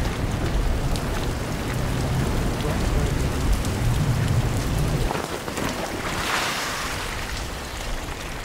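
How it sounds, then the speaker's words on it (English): Heavy rain pours down outdoors at an archaeological dig in Winchester, Hampshire, with strong wind, a steady loud broadband wash that continues throughout. "The rain's still sheeting down"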